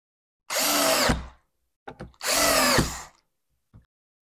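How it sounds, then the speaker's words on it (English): Power drill driving screws into a wooden wall clock kit: two close, loud whirring bursts of about half a second each, with small clicks and bumps between and after them. "One thing I always have with me is a drill for sure."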